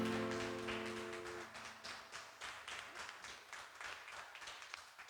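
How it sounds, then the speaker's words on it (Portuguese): A church congregation at a Sunday family service applauds, a broad, fairly distant wash of clapping that starts under a fading sustained musical chord and carries on with rhythmic pulses after the music ends. "Dá uma salva de palmas para o Senhor"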